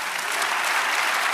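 Brief burst of church congregation applause during a Spanish-language sermon, dense even clapping from a full room.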